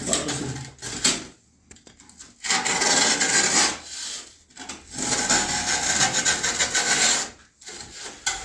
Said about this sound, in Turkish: Ölçüsü 14 santim geldi burada. 14 santim kesiyorum.